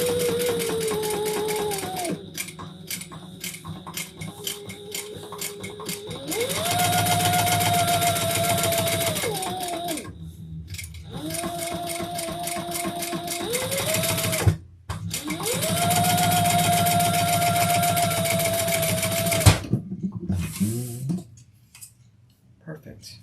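A sewing machine back stitches double-sided leather on a messenger bag, its motor whirring in long bursts that rise and fall between brief pauses, with rapid needle clatter throughout, close and fairly loud.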